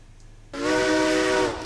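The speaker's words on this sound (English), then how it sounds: "that's a loud whistle" A steam locomotive whistle in a train video game blasts suddenly after a quiet moment, giving one loud, sustained, harmonic-rich tone with breathy hiss that holds for about a second before easing off.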